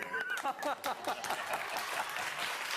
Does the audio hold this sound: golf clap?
yes